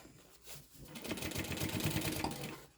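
A sewing machine runs in a steady stitching burst as it works its way around a sling bag, with brief pauses at the start before the needle rattles continuously.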